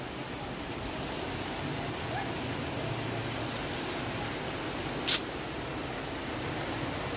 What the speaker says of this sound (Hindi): अपने ये देखो बारिश क्या है यार, ये कल रात से इसी स्पीड से यहाँ पे हो रही है।